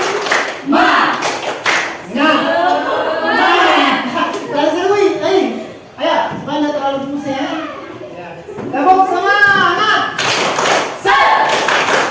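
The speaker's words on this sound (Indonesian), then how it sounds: "Tepuk semangat!" Students in a mathematics classroom perform a rhythmic group clapping cheer, sharp patterned claps and thumps repeating for several seconds, mixed with children's chanting voices and a teacher's speech.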